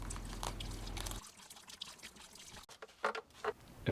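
Water drains from the small drain opening on a swimming pool pump, splashing steadily at first and then trickling and gurgling in uneven spurts, close and fairly quiet.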